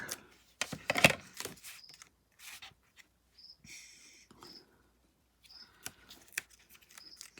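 Several short crisp snips of scissors cutting ribbon, spaced irregularly with quiet gaps and light rustling between, close up.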